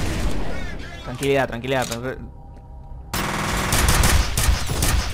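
Automatic gunfire bursts from the first-person shooter F.E.A.R., loud and close, breaking off briefly before a dense, steady volley resumes, with someone talking over the start.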